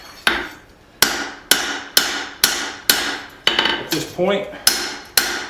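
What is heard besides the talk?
hammer plenishing a forged tomahawk on an anvil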